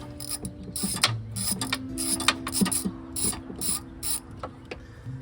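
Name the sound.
loosening a ground bolt on a 1990 Integra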